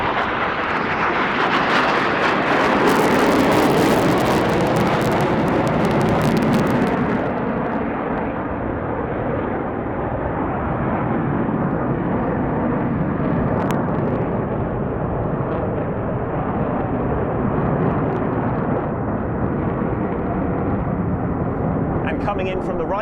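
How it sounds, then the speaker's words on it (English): Jet formation, the Black Eagles aerobatic team at the Royal International Air Tattoo 2022, loops on full afterburner: a loud, sustained broadband roar that swells in the first seconds, then settles into a steady rumbling drone throughout. "now they'll form up in a line abreast formation for a loop on full afterburner"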